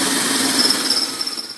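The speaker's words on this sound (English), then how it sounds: "drill up through the subframe and the channel of the frame of the cart" A power drill whines steadily at high speed, close up, with a grinding edge as the bit works up through the metal subframe and frame channel of a Yamaha G29/Drive golf cart.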